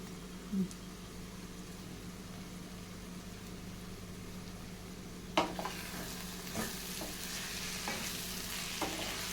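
Ground fresh coconut and garlic paste being stirred into brinjal frying in a pan for a Rayalaseema-style brinjal fry, with a steady sizzle and a few scraping stirs of the spoon in the second half.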